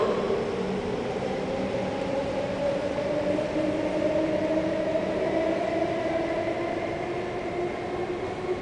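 A steady, continuous rumble of an SMRT metro train running through the network on its last connecting service at night, with a low droning hum and a faint tonal whine holding level throughout, no voices.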